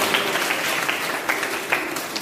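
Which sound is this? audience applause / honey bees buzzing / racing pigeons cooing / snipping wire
audience applause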